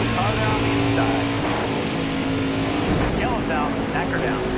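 Race car engines in a NASCAR Xfinity Series video game drone loudly and steadily, a continuous pack of motors with shifting pitch, while someone talks over the top.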